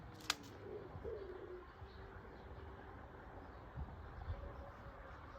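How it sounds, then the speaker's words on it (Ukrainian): Soft, low cooing of a pigeon rises a few times over a quiet outdoor background, with a sharp click near the start. "Голуб, дикий голуб."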